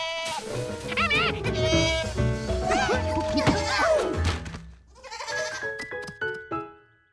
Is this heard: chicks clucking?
no